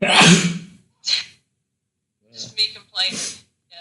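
A sharp, loud sneeze bursts out at the start, followed by people talking in a podcast setting.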